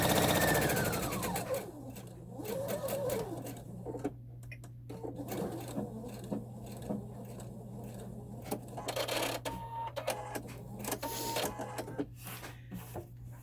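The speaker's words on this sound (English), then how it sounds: "And now I'm going to sew to the end." Sewing machine stitching a drawstring pouch, a faint steady mechanical hum with intermittent clicks and taps, close and without talk.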